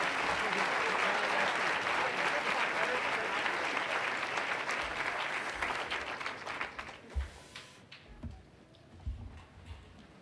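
Graduation ceremony audience applause, a full crowd clapping loudly at first, then thinning out and dying away into a few scattered claps and light bumps.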